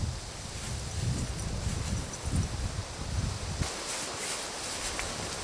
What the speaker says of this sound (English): There's just a heavy amount of wind pushing on the back of it